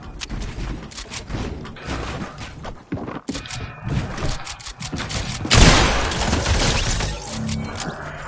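Rapid bursts of gunfire and crashing impacts from a shooting video game, loud and dense throughout, with a sharp heavier blast near the end. No one speaks over the action.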